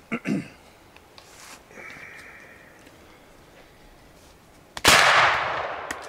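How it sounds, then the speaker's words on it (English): A single sharp, loud shotgun-style blast at a meat shoot squirrel target cracks out near the end and decays over a second, after quieter outdoor noises and a faint distant voice. "There's our third shooter,"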